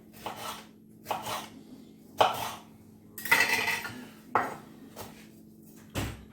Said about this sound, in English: So we're going to start off with some peppers. So we're going to chop these up.